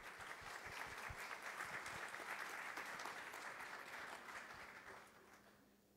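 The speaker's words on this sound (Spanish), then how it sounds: "Vamos a recibirlo con aplauso." An audience at a university presidential inauguration ceremony applauds to welcome the student council president, a full steady round of clapping that tapers off toward the end.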